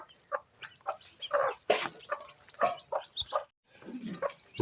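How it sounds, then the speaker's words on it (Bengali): A desi hen clucks softly and repeatedly at close range among newly hatched chicks, short irregular calls with brief pauses and no talk. "যেহেতু দেশি মুরগির সাথে আমি বাচ্চাগুলো ফুটাইছি"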